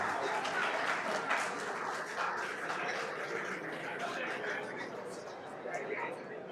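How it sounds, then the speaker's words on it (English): Applause for chiefs and queen mothers at a sika round event in Accra, a sustained crowd clapping at moderate level with some chatter mixed in. "Shall we do a big round of applause for them?"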